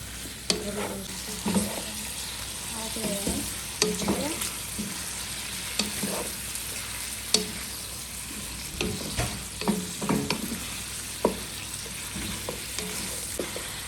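Meat sizzling and frying in a hot pan, with a steady crackle and repeated scraping and clanking as it is stirred, no voices.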